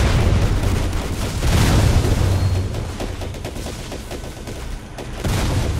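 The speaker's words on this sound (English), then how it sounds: "There's my gun charging up now" A tank's main gun in a tank combat game, heavy firing and rumbling blasts over a steady mechanical roar, a loud burst early on, then repeated shots and clattering near and loud, with no talk.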